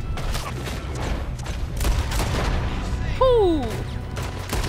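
Gunfire rings out in Red Dead Redemption 2, several sharp reports over a busy game background and then a sudden louder burst. A player's voice exclaims over the action.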